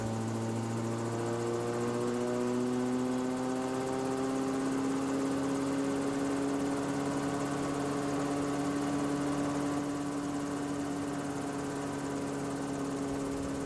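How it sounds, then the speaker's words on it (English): A Rotorway Exec 162F kit helicopter runs steadily with the engine at operating temperature, a loud continuous engine drone and rotor whir with harmonic tones rising slowly as the throttle opens, no talking. "With the engine at operating temperatures, open the throttle to bring rotor RPM to 520."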